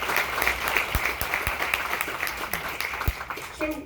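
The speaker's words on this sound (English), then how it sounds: "Give them a round of applause, guys." A studio audience at a cooking demonstration applauds the chefs, a steady, moderately loud patter of clapping lasting a few seconds with a brief voice over it.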